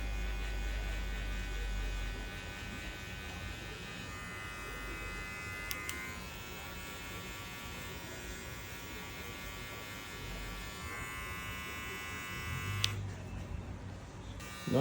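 Hair clippers buzz steadily with an electric hum during a high taper fade haircut, close and continuous with small pitch shifts as the clipper moves.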